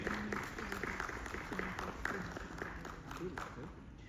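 A crowd claps steadily in a dense, continuous wash of applause, with some murmuring voices mixed in.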